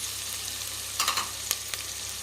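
Onions frying in a pan on low heat for prawn curry, a steady close sizzle broken by a few brief bursts of louder crackling and spatula scrapes, with no one speaking.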